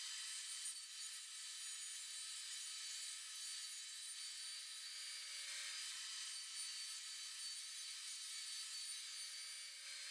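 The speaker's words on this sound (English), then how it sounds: "I'm going to rip it into 1 1/2 inch sections." A saw rips an 8-foot pine 1x4 board lengthwise into narrow strips, giving a steady, hissing cut. It runs unbroken for about ten seconds at a fairly quiet, even level, with no talking.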